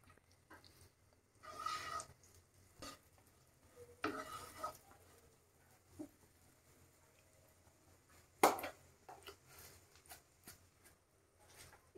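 Chopped garlic frying in melted butter, stirred in a pan: soft sizzling with intermittent scraping bursts of stirring and a sharp utensil clank near the middle, no talking.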